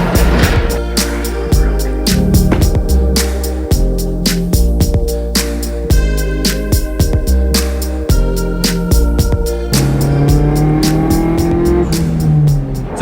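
A car engine drones and revs while driving on a bright day, close and loud, with shifting pitch as it accelerates and changes gear, no talk heard.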